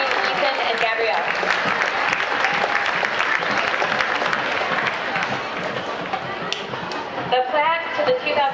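Sustained audience applause for the 2015 4-H King and Queen at the Defiance County Fair coronation, steady and full throughout with voices mixed in near the end.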